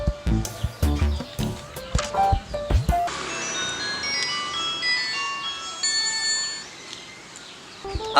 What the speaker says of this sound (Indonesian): Coba telepon Azat.